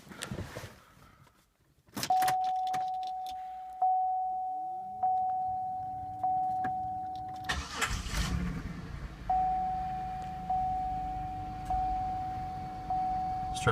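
Inside a 2005 Pontiac Bonneville SLE, a chime pings repeatedly at a steady rhythm before and after the engine cranks and starts with a brief surge around the middle, with some handling noise.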